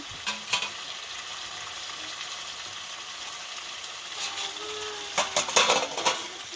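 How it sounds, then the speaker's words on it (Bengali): Chicken sautés in a pan with a continuous soft sizzle, and stirring scrapes and clatters grow busier toward the end. "আজকে দুপুরবেলা তো চিকেনটা বসিয়েছি, কষানো হচ্ছে।"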